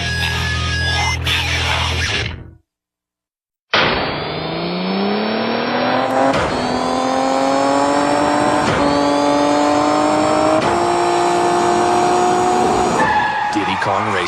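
Go-kart engines from the N64 racing game Diddy Kong Racing, buzzing loudly with rising revs and tire skids, interrupted by a second of silence, then continuous whining engine tones under a voice.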